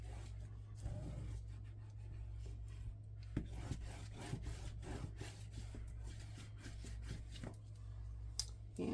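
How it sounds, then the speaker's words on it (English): Paper is burnished by hand onto the spine of a scrapbook album, with quiet close rubbing strokes and occasional soft clicks and scrapes over a low steady hum. "Give that a good burnish."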